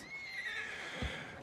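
A horse in the video game Red Dead Redemption 2 gives a single close whinny that holds briefly and then fades, followed by a soft low thump like a hoof step.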